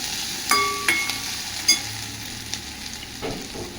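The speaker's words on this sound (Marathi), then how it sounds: "कांदा चांगला परतू देऊ," Onion sautéing in a pan for Maharashtrian pitla, a steady soft sizzle broken by a few sharp clinks and scrapes of a stirring spoon against the pan, close and without speech.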